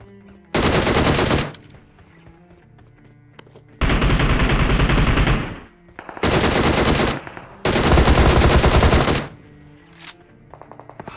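Loud, close automatic gunfire from a battle royale video game, heard as four sustained bursts of rapid shots separated by short pauses, with no talking over it.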